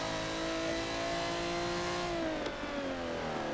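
A race car engine in Forza Motorsport 7 revs loud and steady, pitch holding high then dipping as it shifts, the buzzy drone filling the whole moment with no talk.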